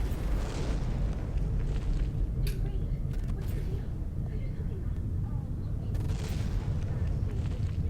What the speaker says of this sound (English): And the missiles continue to come in.